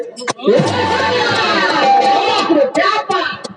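Audience at a jawabi kirtan, a Hindi devotional call-and-response singing event, breaks into loud, dense applause and cheering that swells quickly and holds for a few seconds before tapering off.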